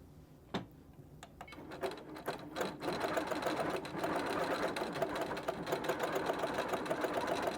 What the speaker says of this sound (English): if you are free motion quilting on a domestic machine, give yourself some grace